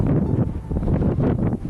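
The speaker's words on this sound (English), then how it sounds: "It's pretty windy, as you can tell." Strong wind gusting across a snowy homestead during a snowstorm, a loud buffeting rumble that surges and dips in uneven gusts against the microphone, with no speech.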